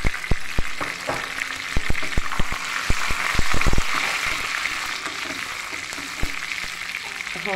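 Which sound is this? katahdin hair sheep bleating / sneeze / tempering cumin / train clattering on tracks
tempering cumin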